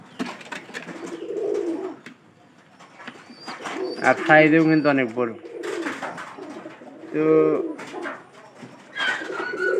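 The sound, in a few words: pigeons cooing in a village loft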